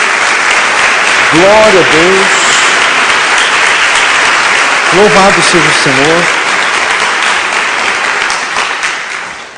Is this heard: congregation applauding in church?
yes